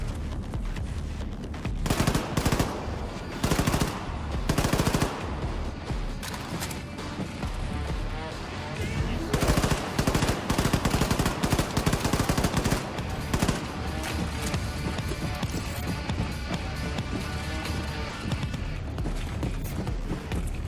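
Heavy automatic gunfire in Wolfenstein 2: The New Colossus rattles in sustained loud bursts with short gaps, mixed with explosive booms and a constant wash of combat noise.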